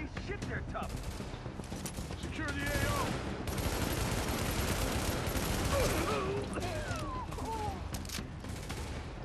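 Heavy sniper and automatic gunfire in Tom Clancy's The Division video game, in a Grand Central Station setting, comes as dense, rapid bursts of shots with whizzing ricochets. A player talks faintly underneath.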